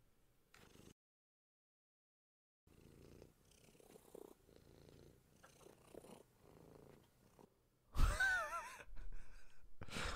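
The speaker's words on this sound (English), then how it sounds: "That was a cat." A cat character in a video game purrs and breathes with soft sighing sounds, broken by a silent gap, then swells into a louder, closer burst near the end.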